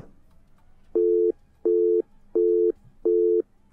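A telephone busy signal sounds after a caller drops off a phone-in line: loud, evenly spaced tone beeps, four full pulses with short silences between.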